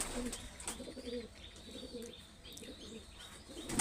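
Domestic pigeons coo softly in repeated low calls, with a few higher chirps scattered among them, fairly quiet and close.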